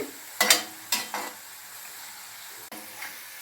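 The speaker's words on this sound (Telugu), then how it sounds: "స్టవ్ మంట సిమ్లో పెట్టుకొని వేపుకోవాలండి" Shredded potato frying over a low flame in a pan, a soft sizzle under a few scraping stirs and one sharp clatter, close and fairly quiet.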